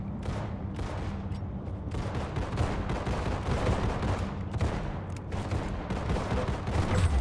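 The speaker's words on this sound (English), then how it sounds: "Who's shooting? Who's shooting me?" Dense, continuous gunfire from the Roblox game Arsenal, with rapid bursts and overlapping shots forming a steady barrage throughout, loud and unbroken with no pauses.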